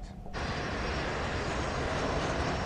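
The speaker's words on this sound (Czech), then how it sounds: "Letadlo je teď 210 metrů nad zemí." Airliner engines droning during final approach about 210 metres above the ground, a loud steady broadband roar from inside the aircraft that starts abruptly and holds without voices.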